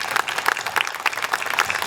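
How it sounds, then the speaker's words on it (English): Short burst of crowd applause at a community event, dense close clapping lasting about two seconds. "give them a round of applause"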